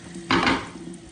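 Running tap water splashes onto a large platter in a short, broad hissing burst, close and fairly loud against the quiet of the room.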